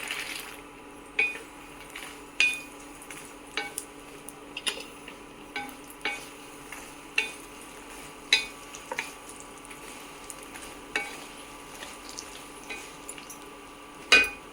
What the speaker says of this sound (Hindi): अब मैं इनको मखानों को भूनूँगी इसमें घी में